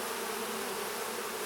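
Honey bees crawling over a hive frame holding honey and some brood, giving a steady, dense hum with no breaks, close and fairly quiet, with no voices.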